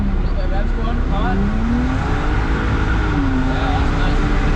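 Close and loud, a BMW E46's engine revs continuously while drifting, its pitch rising and falling in smooth sweeps, with a possible hint of tire squeal and people talking over the roar.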